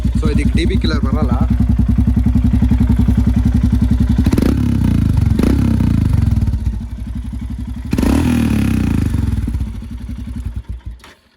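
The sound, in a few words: modified Royal Enfield Himalayan 411 motorcycle engine revving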